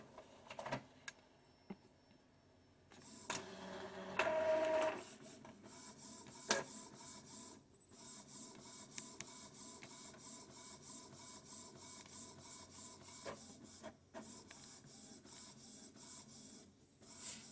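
An Epson ET-2720 inkjet printer runs through a job: mechanical whirring, a louder feed burst early on, then steady shuttling and clicking carriage movements, with no speech.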